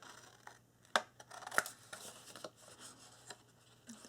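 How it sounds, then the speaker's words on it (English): Scissors snip miter cuts into the corners of a paper mini album, giving a few sharp, close snips around the one- and one-and-a-half-second marks against a quiet background of faint rustling. "now we're going to go ahead and miter cut our corners"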